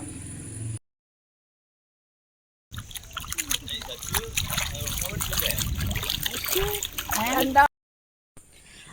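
Water splashes and trickles close by as people swim and play in a river, with voices talking over the watery sounds; the sound cuts out briefly twice.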